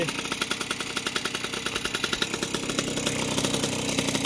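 A rescued 1981 Yamaha YZ60H two-stroke motorcycle engine idles steadily when warm, a close, continuous buzzing putter with a fast even rhythm that grows slightly louder toward the end.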